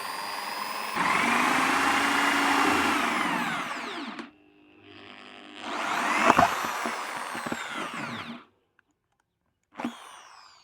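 A handheld power tool cuts a hole in a plastic bucket being made into an aquarium, its motor whining loudly in two long bursts with a quieter gap between, then a short final burst, with no talking.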